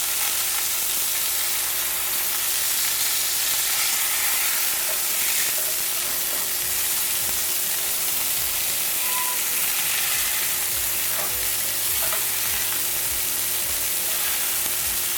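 Burger patties, thick ones just flipped, frying in a pan give a continuous dense sizzle and hiss at close range, with a faint tonal hum beneath and no talking.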